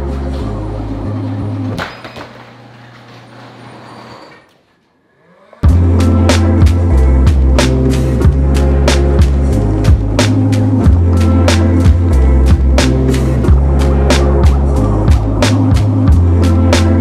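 A Meepo Hurricane electric skateboard with huge wheels rolls over rough ground, giving a loud, continuous rumbling drone with steady rattling clatter; it drops to near silence briefly before resuming strongly.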